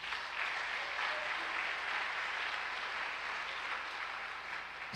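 Church congregation applauding during a worship service, a steady dense clapping that holds evenly for several seconds with no speech over it.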